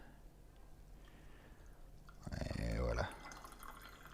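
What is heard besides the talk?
tea being poured after brewing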